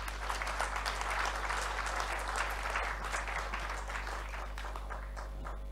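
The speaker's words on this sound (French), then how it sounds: "On applaudit encore une fois son Excellence." A congress audience in Kinshasa applauds a dignitary with dense, even clapping that holds steady for several seconds and tapers slightly at the end, heard at a modest level over a low hum.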